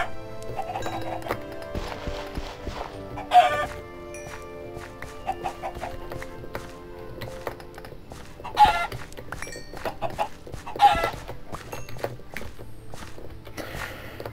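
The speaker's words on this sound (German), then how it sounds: "Wieso spawnen eigentlich hier drauf Hühner?" Chickens in Minecraft clucking in short, close bursts at intervals, over a soft game background with light footsteps and a low faint hum, with no one speaking.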